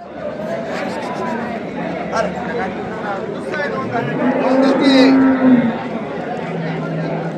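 Bullocks lowing amid a busy outdoor cattle market in Chakan, with a steady crowd chatter and people talking close by; a low moo rises briefly near the middle.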